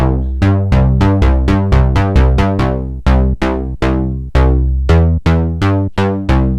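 A bass synth built in Serum with chorus added plays a rhythmic pattern of punchy, rich plucked notes, each striking sharply and decaying quickly, loud and alone.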